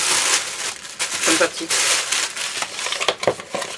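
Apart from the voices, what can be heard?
paper wrapping being unwrapped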